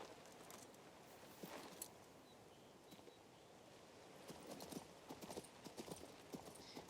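Horse hooves clip-clop steadily in King's Bounty 2, a fantasy game, with a fairly near, even rhythm that grows a little louder and busier toward the end, set against soft ambient background.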